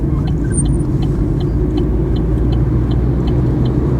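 A car's turn signal ticks at a steady, even rhythm during a driving test in an automatic-transmission car, the faint clicks sitting over a loud, constant engine and road rumble with no talking.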